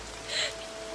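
Rain falling outdoors, a soft steady patter with a brief swell of hiss in the middle, faint and continuous throughout the second.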